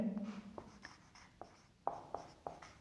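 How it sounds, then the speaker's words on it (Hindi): Pen scratching on paper while a physics numerical is worked out, a run of short strokes and several sharper taps, close and quiet, with no talking. "तो अब इसको हम लिखते हैं"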